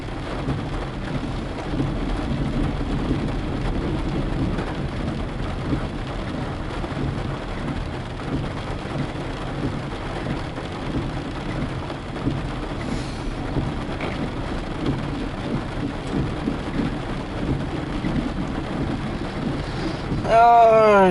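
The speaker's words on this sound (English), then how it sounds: "Oh, yay, it's raining." Steady rain pours down during a drive beside a railway line, with low thunder rumbling in the background; a voice speaks briefly near the end, where the sound grows louder.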